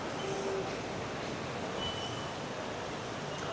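Red Line metro train running through a station, a steady rumbling wash of wheels and rail noise with faint squeals, moderately distant and continuous, no voices.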